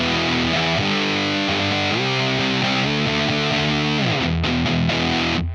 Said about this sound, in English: Here's the XS with the distortion volume close to minimum.